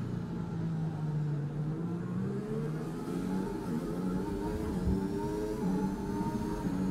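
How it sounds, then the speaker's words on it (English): A failing Formula 1 car engine in the racing game F1 2021, a steady mid-pitched drone with wavering tones rising and falling, moderately loud and unbroken, with no voices. "My engine is dying on me."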